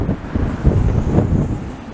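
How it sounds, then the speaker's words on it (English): Strong wind gusts on a seafront promenade buffet the microphone in a loud, close, continuous rumble that swells and eases over two seconds, with no voices. "Oh wow, that was a strong gust."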